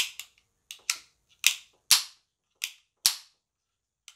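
Colt cap-and-ball revolver being cocked and dry-fired after cleaning, a series of about nine sharp metallic clicks and snaps at irregular intervals, close and loud with silence between.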